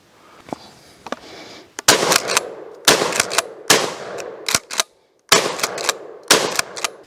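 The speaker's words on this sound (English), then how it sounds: "I was shooting some more low brass off camera, just keeping it warm" Real McCoy PAS 12 pump shotgun firing low brass shells outdoors, a series of loud, sharp close-range blasts at irregular intervals with brief gaps between shots.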